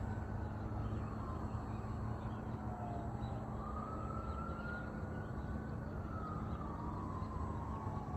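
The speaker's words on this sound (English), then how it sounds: "Got some sirens there in the background." Faint emergency vehicle sirens wail far off in the background, their gliding tones rising and falling under a steady, loud wind or motor hum that dominates the scene.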